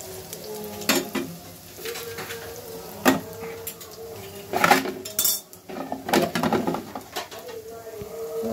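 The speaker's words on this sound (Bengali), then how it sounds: "এখানে পেঁয়াজও ভাজতেছি, একটু ধনিয়া পাতা দিছি এজন্য সবুজ" Onions fry in a pan with coriander leaves while utensils clatter and scrape against the metal in irregular bursts, over a low background hiss.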